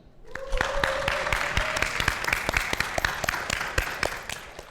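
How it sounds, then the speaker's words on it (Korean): A crowd applauds the two finalists of a competition, a steady run of brisk, close claps lasting several seconds under a faint tone and a few cheers. "우리 크게 이 두 명을 환호하는 박수 보내겠습니다"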